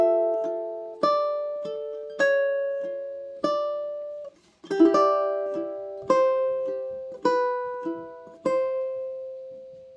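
A solo ukulele plays two measures of a theme from The Legend of Zelda, plucking clear, evenly spaced notes that ring and decay, with a brief pause midway and no voice.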